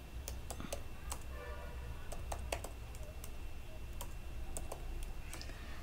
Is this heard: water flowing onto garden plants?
no